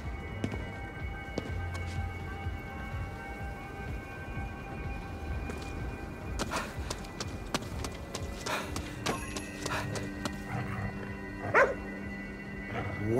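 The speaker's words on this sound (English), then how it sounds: "What's he barking at?" Dog barking in the video game Ghostwire: Tokyo, faint and distant amid a low ambient game soundscape with occasional clattering steps and tones.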